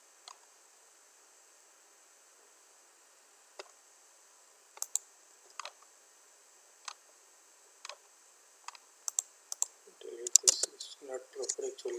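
Sparse single mouse clicks tap out during CAD drafting of a ducting layout, with a faster cluster of clicks near the end, quiet and close against near silence.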